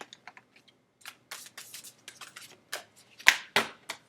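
Tarot cards being shuffled by hand during a reading, soft scattered riffles and taps that build into a few sharper, louder snaps near the end, quiet and close with no talking.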